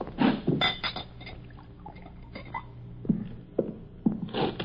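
A drink poured into a glass indoors, with several clear glass clinks and brief liquid trickles scattered among quiet pauses, close and fairly soft.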